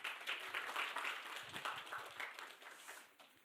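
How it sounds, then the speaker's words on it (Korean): An audience at a Kongju National University forum gives continuous, faint, distant applause that thins out and fades toward the end. "다시 한번 박수 부탁드립니다."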